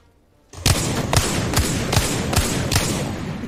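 Gunfire from a player moving and shooting in Apex Legends: after a quiet start, about seven heavy, evenly spaced shots ring out at a steady rhythm, loud and close, with no talk.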